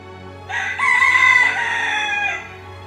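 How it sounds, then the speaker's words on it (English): Cartoon rooster crowing a single loud, drawn-out cock-a-doodle-doo, close and clear over quiet background. "The rooster says cock-a-doodle-doo."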